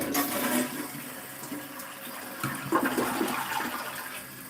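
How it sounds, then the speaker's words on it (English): A repaired household toilet flushes nearby with a rushing gush of water that swirls and drains, then settles into a quieter refill trickle, with no one speaking. "We're going to flush it and test it."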